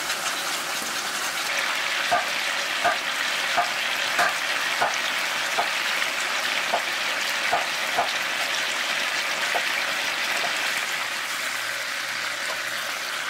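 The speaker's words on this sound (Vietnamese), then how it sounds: "Và mình chiên thêm một chút xíu nữa để cho thịt vàng xém cạnh như vậy là được ha." Pork pieces frying in oil in a pot until the edges turn golden, giving a steady bright sizzle and crackle with faint scattered pops, continuous and close throughout, with no talking.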